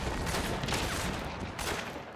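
Rapid gunfire from the video game Hunt: Showdown crackles loud and close in a dense, continuous burst of overlapping shots with no pauses.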